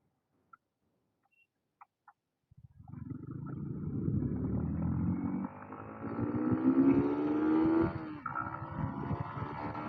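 Motorcycle, a Bajaj Pulsar 220F or Yamaha MT-15, starting after a few faint clicks, then a loud rising engine note that climbs through the revs and shifts up as the bike rides off.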